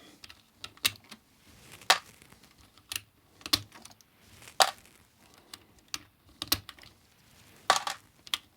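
Keycaps are pried off an early Amiga 500 computer keyboard one at a time, giving sharp plastic clicks and snaps spaced irregularly about a second apart, close and clear with no talking.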